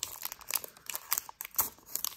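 A Pokémon Shining Fates booster pack wrapper is torn and crinkled open by hand, giving a run of sharp, close crackling rips and rustles in uneven bursts with no talking.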